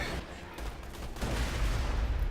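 A creeper blows up in a video game, a loud, close blast that booms and then rumbles on.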